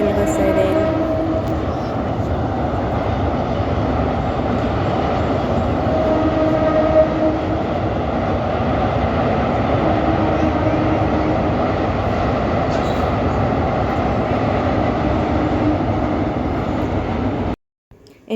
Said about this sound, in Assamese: ৰেল গৈছে, ৰেল